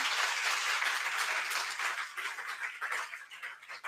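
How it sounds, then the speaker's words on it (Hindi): Audience clapping in a hall welcoming a guest at a felicitation event, a dense continuous patter of many hands that holds steady and then starts to thin toward the end. "एक बार जोरदार तालियों से स्वागत करेंगे"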